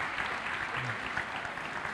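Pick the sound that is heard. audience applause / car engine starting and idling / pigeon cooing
audience applause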